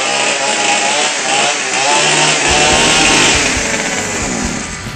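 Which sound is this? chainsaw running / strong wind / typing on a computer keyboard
chainsaw running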